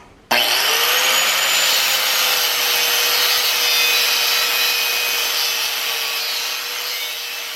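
A steel workpiece is cut for a log jack build, a sharp start giving way to a loud, steady grinding hiss that holds evenly for several seconds and eases slightly toward the end.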